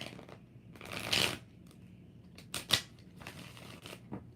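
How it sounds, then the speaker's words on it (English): Tarot cards being shuffled at a live reading, with a few soft bursts of riffling and card flicks separated by quiet pauses, close and fairly faint. "One more shuffle."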